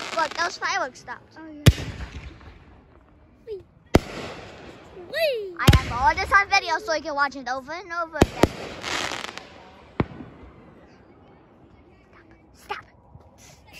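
Fourth of July fireworks go off in sharp, widely spaced bangs with whistling rising trails between them, under excited voices and chatter.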